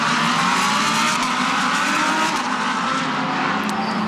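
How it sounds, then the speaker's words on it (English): Audi R8 LMS race cars with V10 engines at the Adelaide street circuit in Australia, a loud, steady roar of engines close by that holds throughout, with no voices. "You can see the heat haze as the Audi R8s fire up and the V10 engines get them moving."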